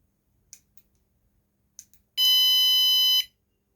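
A single loud electronic alarm beep, a sustained piercing tone lasting about a second, preceded by a few faint clicks.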